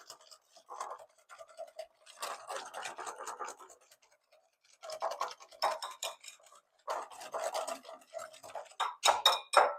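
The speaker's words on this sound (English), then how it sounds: "We're whisking our sugar and our egg yolks." Sugar and egg yolks whisked together by hand for holiday eggnog, giving bursts of scraping, rattling strokes against a bowl that stop and restart in three spells, close by and fairly quiet.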